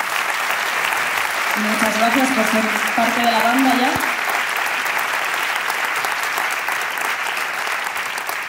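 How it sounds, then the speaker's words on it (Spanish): Sustained applause for the band at a Spanish poetry recital fills the room, a steady wash of clapping with a voice briefly speaking over it before the clapping continues alone. "así que un aplauso para ellos,"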